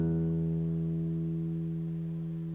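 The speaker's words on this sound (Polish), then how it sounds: "Uwaga, teraz kilka uderzeń, żebyście sobie dostroili." Acoustic guitar strings are strummed together for tuning, and one full chord rings out steadily and slowly decays, quiet and alone.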